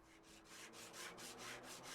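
Sandpaper rubbed across a car body in Car Dealer Simulator, a faint, quick back-and-forth scratching stroke repeated in an even rhythm, about four strokes per second.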